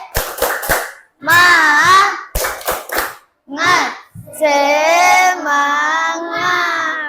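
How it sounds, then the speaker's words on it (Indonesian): A classroom of children claps out a rhythmic spirit cheer, crisp bursts of quick hand claps alternating with group chanting, the pattern repeating twice at close range. "Tepuk semangat."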